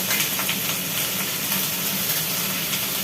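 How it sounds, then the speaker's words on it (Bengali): Wet jackfruit and vegetables hit hot oil for a jackfruit curry, giving a loud, steady, close spluttering sizzle with dense crackling hiss throughout and no voices. "জল আছে খুব চ্যাটার ফ্যাটা চ্যাটার ফ্যাটার করছে"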